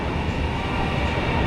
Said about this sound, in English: this looks like the Japanese Shinkansen bullet train